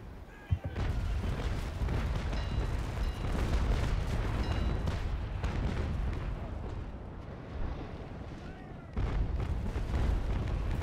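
Heavy cannon broadside fire in a naval port battle video game, USA against pirates: dense, continuous booming rumble that fills nearly the whole stretch, with a brief gap near the end before the barrage resumes.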